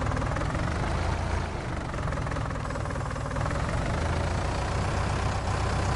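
A rough, steady tractor engine drone in Farming Simulator 19 with a low rumbling knock runs continuously, loud and close, without pauses or talk.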